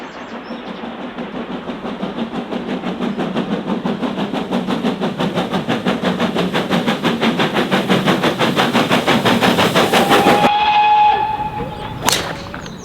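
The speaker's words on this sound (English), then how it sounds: "the steam train coming under the bridge here at Churston by the 18th" A steam train passes under a bridge near Churston station, its rapid rhythmic chuffing building loud and close for about ten seconds before cutting away, followed by a brief sharp crack.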